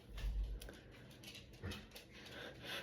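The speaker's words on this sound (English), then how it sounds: "Looks like my dog has got in." A dog whimpers and pants softly indoors, faint, with short breathy bursts and a low whine.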